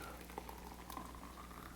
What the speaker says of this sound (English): I'm just making use of a hot water kettle right here, and I'm just going to pour in as much water as I would like